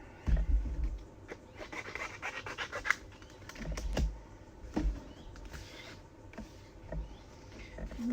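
Scissors cutting scrapbook paper for a layout, with close crisp snips and rustling paper handling in an irregular rhythm, fairly loud, with no talking.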